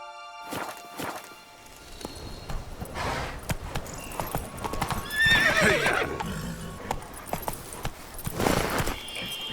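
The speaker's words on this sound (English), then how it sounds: "Faster. Whoa there, Roach" Horse hooves clop steadily under a mounted rider in The Witcher 3: Wild Hunt, Blood and Wine, mixed with loud whinnies and snorts and swishing ambience, sounding close and full throughout.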